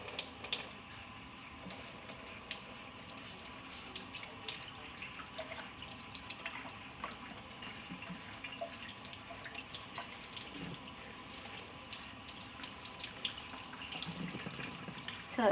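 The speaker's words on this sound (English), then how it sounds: "Now I'm just going to run it under cool water." Cool tap water runs steadily over a sun paper print being rinsed at a sink. The stream is a constant, fairly quiet wash with small splashes, and no one talks.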